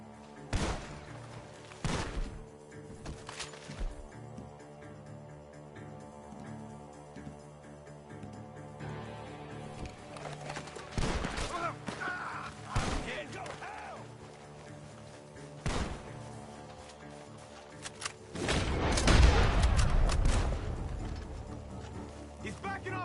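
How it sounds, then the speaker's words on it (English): Gunfire cracks from a barn in Red Dead Redemption 2, scattered sharp shots spaced irregularly over the game's ambient sound, with a denser burst of noise near the end. "The gunshots are coming from that barn."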